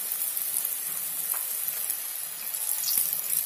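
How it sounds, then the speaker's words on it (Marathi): Taro root (arbi) patties frying in ghee give off a steady, fine crackle and hiss. The sound stays fairly soft and even throughout, with a few slightly louder pops. "आता करू तुपावर फ्राय करायचं, ते पण खूप छान लागतं."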